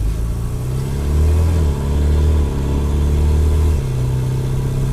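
Engine of a 1992 Rover Mini Cooper S replica while driving, a steady close mid-pitched drone that swells slightly as it pulls, running alone with no talk.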